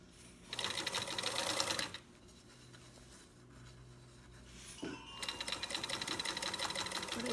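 A sewing machine stitches along the edge of fabric in two fast, steady runs of whirring needle strokes, one short and one longer, with a quieter pause between them.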